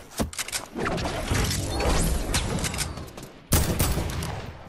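Gunshots in Fortnite Battle Royale, a loud close fusillade of rapid repeated shots that sustains for a few seconds, breaks off, then restarts with a sharp burst.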